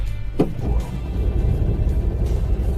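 Roadkill's Crusher rat rod car rumbles loudly as it pulls away toward the drag-strip starting line, a steady deep engine drone after a brief clunk.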